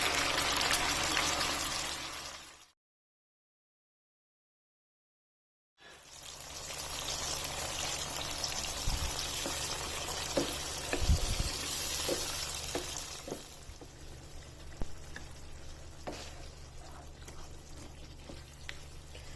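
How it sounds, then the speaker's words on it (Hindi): Chicken frying in oil sizzles steadily as a spice paste goes in for a purslane and chicken curry, with stirring and a few clinks. The frying drops out into brief silence near the start, then resumes and stays constant. "यहाँ पर ये जो पेस्ट तैयार किया ये डाल देना है।"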